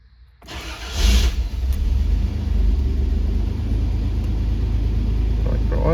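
A 1995 Toyota 4Runner's 3VZ-E V6 catches and settles into a steady idle around 1000 RPM, a continuous low rumble that holds close and even for several seconds after a brief start-up swell.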